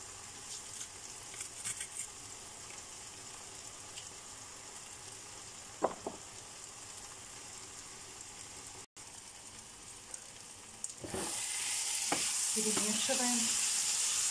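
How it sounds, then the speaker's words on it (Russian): Pressed garlic sizzles in a frying pan while meatless cabbage rolls and patties are prepared, a steady hiss with a couple of clicks that swells louder and brighter in the last few seconds. "будем выдавливать чеснок. Прямо в сковородку выкладываем."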